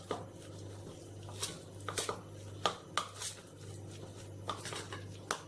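Spoon and dish clatter as turmeric and salt are stirred into snack dough, scattered clinks and scrapes over a steady low kitchen hum, no talking.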